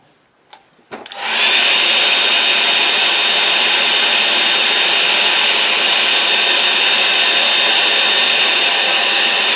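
A hair dryer blows on watercolour paint on a painted rock, switching on after a couple of faint knocks and then roaring loudly and steadily up close for the rest of the stretch.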